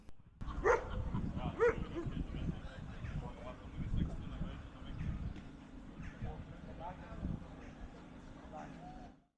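A German Shepherd barks several times in short bursts amid outdoor crowd noise and nearby chatter at a WW2 reenactment event in Leopoldsburg, Belgium, the barks standing out near the start.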